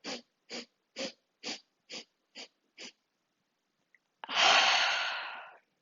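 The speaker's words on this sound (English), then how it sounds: "the inhalations are sharp inhalations through the nose, and we do 7" Seven sharp, evenly spaced nasal inhalations in a yoga breathing exercise, then after a short pause one long, loud whooshing exhale out through the mouth, close up with no talking.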